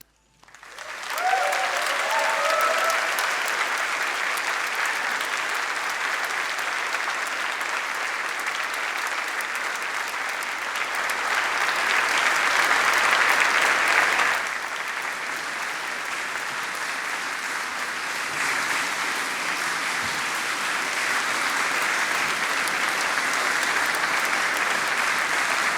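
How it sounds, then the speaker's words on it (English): Sustained applause from a large crowd of university graduates in a ceremony hall, a dense steady roar of clapping that swells slightly midway and carries on throughout without a break. "Now it's your chance to applaud your family, your friends, your loved ones"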